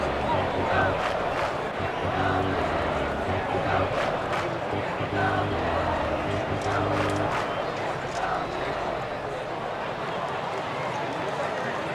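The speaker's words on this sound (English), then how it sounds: "the fans are still cheering" A ballpark crowd cheering in the MLB 2K7 baseball video game, a steady, loud roar of fans that runs throughout under an announcer's ongoing commentary.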